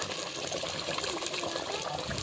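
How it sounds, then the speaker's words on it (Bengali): Water poured from a vessel into a pan of duck curry with new potatoes, a steady splashing gush lasting about two seconds, close and fairly quiet. "কষা হয়ে গেছে, এবার একটু জল দিয়ে নেবো,"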